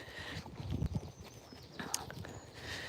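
Horse hooves clip-clop at a walk on a farm hack, with a steady rhythm of close, moderately loud thuds and a few harness jingles, and no talking.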